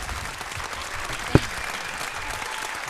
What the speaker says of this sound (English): Keep the applause going for this man